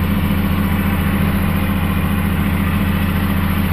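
A CFMOTO 450SS motorcycle engine idles steadily at close range, a loud, even low-pitched rumble with no revving.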